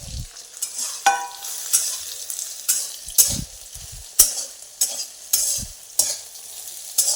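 Soybeans frying with mustard seeds and cumin are stirred in a hot pan, giving a steady run of loud, rhythmic scraping strokes over a light sizzle, with no talking.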